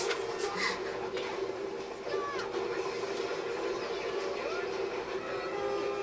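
A train Zord from Power Rangers RPM rumbles along with rail clatter and a horn-like whistle, steady and fairly loud throughout, with faint voices underneath.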